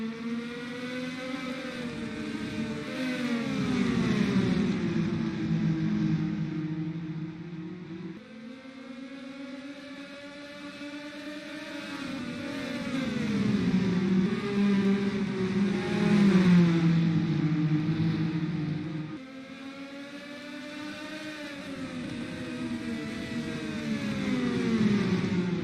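IndyCar race cars accelerating at a green flag restart, loud engine notes rising in pitch through repeated gear changes as cars surge past in waves, with a steady roar throughout.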